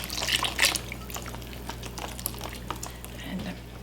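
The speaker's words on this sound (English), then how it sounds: "So stirring it in as quickly as you can, and then pour in the other cup as well." Liquid pours into pumpkin spice cake batter, a gurgling splash that is loudest early on and then settles into softer trickles and drips, with a quiet voice faintly underneath.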